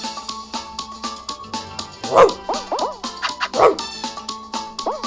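Stumble Guys game audio with two sharp dog barks over a busy electronic soundtrack of chirps and tones.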